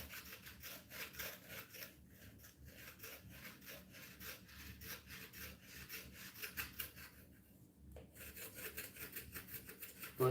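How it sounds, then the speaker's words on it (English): A knife blade scraping old, dry grout out of shower tile joints, giving quiet, rapid back-and-forth rasping strokes in a steady rhythm with a few short pauses, heard close up. "so I'm scraping the old dry stuff off."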